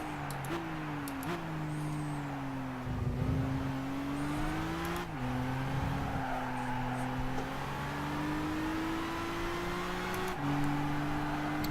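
A race car engine in the Gran Turismo video game, GT Academy 2013 practice, drones steadily with pitch rising and dropping through gear changes, plus brief tire squeal during oversteer, with no talking.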